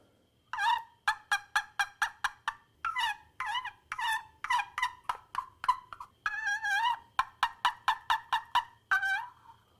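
A handheld percussion sound-effect instrument played to imitate a chicken, giving a quick series of bright, close clucking squawks in short bursts separated by brief pauses, loud and with no talk over it.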